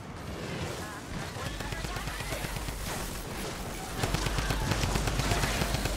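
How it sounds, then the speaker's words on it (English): Rapid bursts of gunfire fired at a wall in Fortnite: Save the World, dense and continuous, growing heavier partway through, with a voice talking over it. "I'm shooting a wall, guys."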